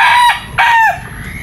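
A broadcock gamefowl rooster crows up close on a game farm, two loud, clear, strained calls in quick succession, the second trailing off, with no talking.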